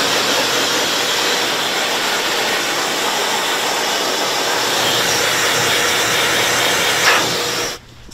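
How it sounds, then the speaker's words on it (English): A blow dryer runs on low power over duck wings during taxidermy, giving a steady, loud, continuous airy hiss that cuts off abruptly at the end. "I'm gonna switch over to the wings and dry with the lower power with the blow dryer"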